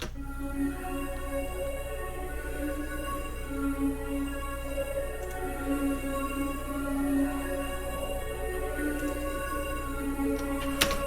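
Sustained DX7 synthesizer keys, dry with no Effectrix, play a steady, bright electric-piano-like tone with a low droning hum beneath, continuous for several seconds.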